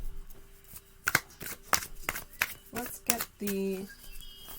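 Tarot cards being shuffled by hand, a series of crisp riffling flicks and snaps in an uneven rhythm, close and clear, with brief vocal sounds among them.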